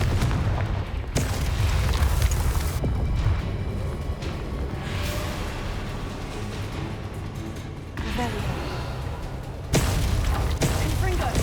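Confringo blasting spells from Hogwarts Legacy on PS4 boom repeatedly through a dense, loud battle mix, with heavy low rumbles and sharp bursts marking new casts every few seconds.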